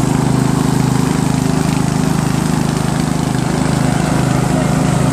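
A Craftsman 13.5 riding lawn mower engine running steadily, a loud, close, pulsing low rumble with a constant hum, no pauses, and no talking.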